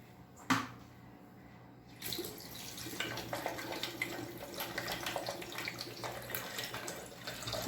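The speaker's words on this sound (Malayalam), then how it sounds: "നമുക്ക് ആവശ്യത്തിന് വെള്ളവും കൂടി ഒഴിച്ചു കൊടുക്കാം." A brief knock, then a steady stream of water pouring into a mixer jar for beetroot juice, running continuously until the end with no voices.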